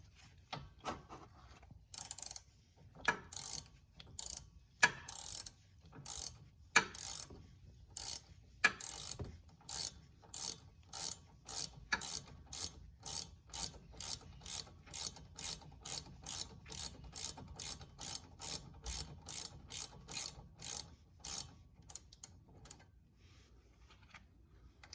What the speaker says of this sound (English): Lightly ratchet in both the upper and lower guide pins.